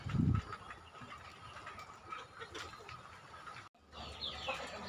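Chickens cluck softly in a farmyard with turkeys and ducks, a brief low burst at the start, then a steady ambient murmur of fowl and outdoor noise.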